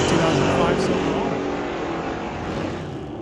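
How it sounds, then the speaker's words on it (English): A drag race between a Dodge Dart and a 2005 Chevrolet Silverado roars as a loud, sustained engine blare that slowly fades. "Jessica Armstrong here in the Dart here in the left lane, taking on Scott Middleton in 2005 Silverado."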